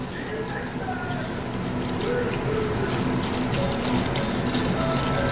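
Chicken broth pours from a carton into a cooking pot, a steady close splashing and trickling of liquid that continues throughout with no talk over it.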